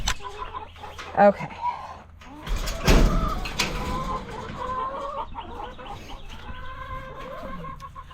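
Rowdy hens clucking and squawking in a busy coop, loud and close at the start with a burst of agitated calls midway, over steady background clatter; a person briefly speaks.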